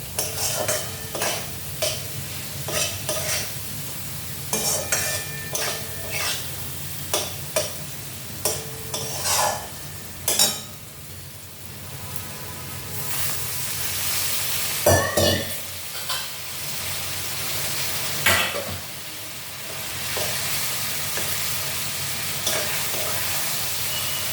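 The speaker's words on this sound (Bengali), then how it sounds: "এখন এটাকে কষাতে হবে, খুব ভালো করে কষাতে হবে।" A spiced vegetable curry with chilli powder stir-fries in a pan, a steady sizzle broken by a string of sharp, close spatula scrapes and knocks that come in bursts, then settle into a denser, continuous frying hiss.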